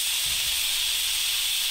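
A pressure cooker whistle releases steam while cooking jackfruit curry, hissing steadily under pressure, a bright, continuous rushing release close by with no other sounds.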